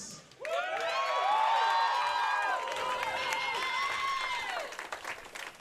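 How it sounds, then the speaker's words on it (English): A crowd at a Wisconsin high school bowling state team championship at Dale's Weston Lanes erupts in loud cheering and whooping with applause, sustained for about four seconds before trailing off. "Let's hear a big round of applause for the number 2 seed, Waukesha North"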